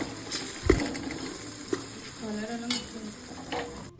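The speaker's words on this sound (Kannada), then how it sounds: "ಚೆನ್ನಾಗಿ ಮಿಕ್ಸ್ ಆದಮೇಲೆ ಬದನೆಕಾಯಿನ ಕೂಡ ಹಾಕ್ಕೊಂಡು ಫ್ರೈ ಮಾಡ್ಕೋತೀನಿ" Masala for brinjal vangi bath is stirred and fried in a pan. Close spoon scrapes and knocks repeat over a steady low sizzle.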